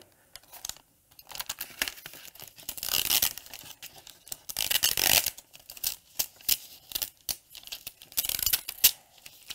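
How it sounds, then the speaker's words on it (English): Infusible Ink transfer sheet being peeled away from its backing while making a custom tote bag with a Cricut, a close run of crackly tearing and crinkling bursts with brief pauses, loudest through the middle, no talking. "I feel like I could be on one of those ASMR videos just peeling Infusible Ink all day."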